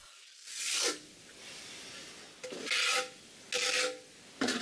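A regular flat trowel spreads freshly mixed tile adhesive in a few separate rasping strokes, close and fairly loud, with short quiet gaps between them.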